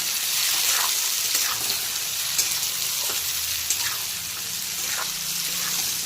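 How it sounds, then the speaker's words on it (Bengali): Turmeric-coated yardlong beans fry in oil left over from frying potatoes, producing a continuous loud, hissing sizzle with occasional faint stirring clicks and no voices. "এখন এই আলু ভাজার তেলেই দিয়ে দেবো হলুদ মাখানো বরবটি"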